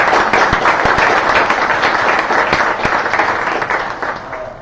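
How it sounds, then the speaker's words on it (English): A conference audience applauds at an opening introduction to thank an organiser. Dense, steady clapping from many hands fills the whole stretch, loud and close, and eases slightly toward the end. "I would really like us all to kind of applaud Charles."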